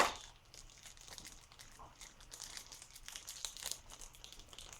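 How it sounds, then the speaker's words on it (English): Thin plastic wrapping around the base of an SH Figuarts Sailor Chibi Moon figure stand is crinkled and torn open, giving a quiet, continuous rustling with a few sharper crackles, heard alone. "the base is usually taped firmly in the back, wrapped in plastic. And I'm just gonna rip that open here."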